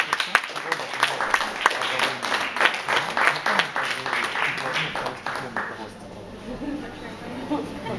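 An audience claps at a poetry reading as a young woman comes on stage, with a burst of fairly close, uneven hand claps that thins out and fades toward the end, with voices mixed in.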